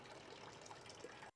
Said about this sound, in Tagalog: kapag nagkaroon na ng supply ng tubig sa mga gripo, mahina naman ang daloy ng tubig kagaya nito